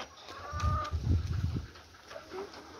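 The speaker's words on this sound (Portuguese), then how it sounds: "Olha que galo mais lindo, vê?" Chickens clucking with a rooster calling in a farmyard at feeding time, several overlapping calls, moderately close, with one clear drawn-out note near the start and scattered softer clucks after.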